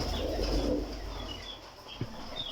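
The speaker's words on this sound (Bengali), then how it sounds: "আমার কবুতরগুলো" Domestic pigeons in a loft coo softly in low, breathy bursts while chicks are being tended, with a faint rustle and a short thump near the end.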